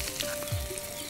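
Sliced onions sizzling in hot oil for a prawn and vegetable curry, a steady close frying hiss with faint stirring, no voices.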